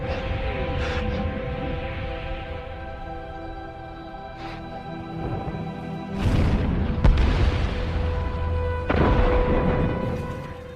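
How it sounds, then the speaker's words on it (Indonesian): Deep booming artillery bombardment explosions in a war film roll in over a low orchestral drone, with two heavier blasts bursting near the end amid sustained rumble. "bantuan artileri datang membombardir pasukan Jepang"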